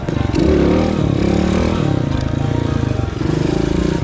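A motorcycle engine revving hard and near, loud throaty drone with fluctuating pitch as the bike is lifted into a wheelie and brought back down with a tap of the rear brake.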